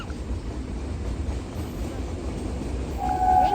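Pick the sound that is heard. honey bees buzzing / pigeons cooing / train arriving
train arriving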